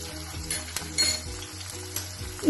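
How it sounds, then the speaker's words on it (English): Capsicum and ginger garlic paste fry in a hot pan, a steady close sizzle with faint stirring scrapes and light clinks of a utensil against the pan throughout. "Here I am using capsicum. Along with this, we will add 1 tablespoon of ginger garlic paste."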